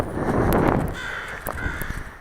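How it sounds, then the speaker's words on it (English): Crows caw outdoors in a San Pedro neighborhood of old houses, a few harsh calls at a moderate distance over steady background noise, with no talking. "the crows making notifications that someone's walking around"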